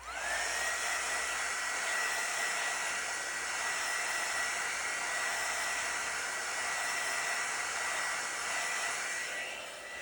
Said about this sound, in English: I'm just going to hit that with the heat tool just to bring up any more cells.